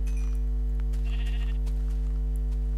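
A sheep bleats once in Minecraft, a short nasal bleat over a steady low hum and game background noise, with a few faint clicks around it.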